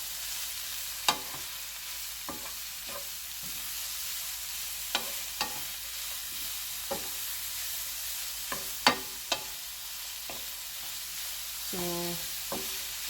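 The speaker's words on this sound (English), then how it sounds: "I've sauteed both the mushrooms and the onions and everything." Mushrooms and onions sauté in a pan with a steady broad sizzle, broken by scattered clicks and scrapes of stirring, and a short spoken word near the end.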